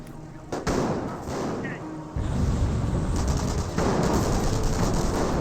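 Scoped rifles firing in Company of Heroes, a World War II strategy game, in a dense battle mix with steady rumbling noise, scattered sharp shots and explosions, and no clear talk.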